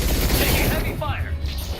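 Heavy gunfire in a Mass Effect battle, a loud dense fusillade that thins out toward the end, with brief voice-like game sounds mixed in.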